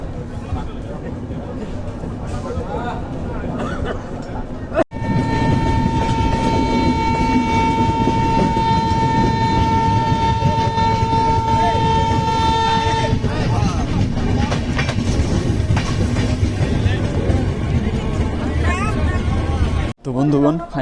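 The Kulik Express passenger train runs between Harishchandrapur and Bhaluka Road in West Bengal, giving a loud continuous interior rumble with wheel clatter, a sustained horn tone midway, and a person talking over it.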